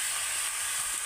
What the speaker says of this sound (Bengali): এবার মশলার মধ্যে আমি মাংসটা এইভাবে নেড়ে নেড়ে খুব ভালো করে কষিয়ে নেব